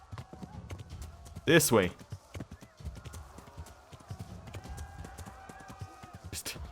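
Galloping horse hooves in the medieval game Kingdom Come: Deliverance beat in a quick, steady clip-clop rhythm, with a player talking over the riding.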